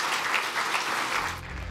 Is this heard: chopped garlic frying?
no